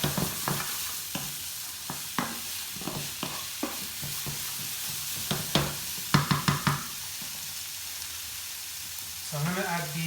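Chicken sizzles while frying in a pan for a Cajun spiced wrap, with a steady crackle of hot oil broken by repeated scraping stirs and utensil knocks.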